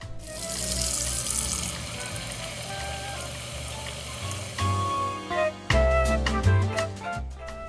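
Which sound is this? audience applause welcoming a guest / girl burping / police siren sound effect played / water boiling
water boiling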